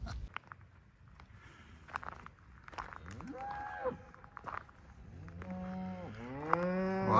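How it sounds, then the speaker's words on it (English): Free-range cattle moo at a mountain camping spot near Crested Butte, Colorado, with long, rising calls at close to medium distance over faint rustling and footsteps. "the cows are coming home"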